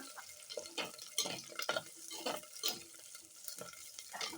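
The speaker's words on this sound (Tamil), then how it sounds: "ஒரே ஒரு பச்சை மிளகா நம்ம எடுத்துருக்கோம் அதை நம்ம போட்டு சும்மா லைட்டாக வதக்கலாம்" A single green chili sautés lightly in a pan for a homestyle fish curry, an even sizzle punctuated by rhythmic stirring scrapes and utensil clinks close by.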